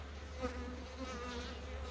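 Steady, dense buzzing of a honey bee swarm settled by a brood frame, continuous and fairly close, with a low hum underneath and no voices.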